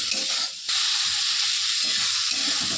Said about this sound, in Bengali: আস্তে আস্তে এটা নাড়বো, নাড়তে নাড়তে এটা পুরো ভাজা ভাজা হয়ে আসবে